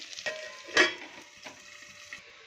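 Masala-stuffed potatoes fry in a pan with a little oil: a soft, steady sizzle, a louder scrape or clatter of the pan early on, then quieter spitting.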